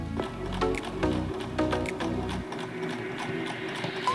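A sewing machine runs a hem seam along the bottom edge of a fabric mask, giving a steady close mechanical chatter in bursts, with a pause and lighter stitching toward the end.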